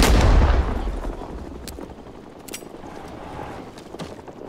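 A grenade blast opens loud and booming in a Vietnam-era Rising Storm 2 firefight, its rumble fading while scattered gunshots crack near and far over the next few seconds.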